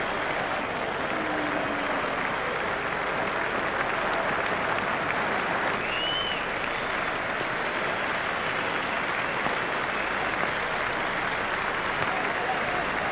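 Cricket stadium crowd at an India vs Australia match rising in a standing ovation, sustained loud applause and cheering filling the ground for over ten seconds with a commentator speaking over it.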